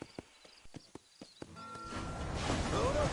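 Horse hooves clip-clop at a steady walking rhythm in the Red Dead Redemption video game, sharp distinct thuds at first, then sinking under a swelling wash of ambient game music and noise.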